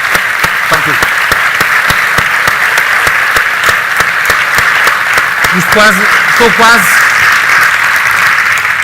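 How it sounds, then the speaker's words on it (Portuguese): An audience at a talk session applauds continuously, a dense steady patter of many hands clapping, with a few voices briefly rising under it. "peço uma salva de palmas para os nossos convidados, Mick Hume, Ricardo Araújo Pereira."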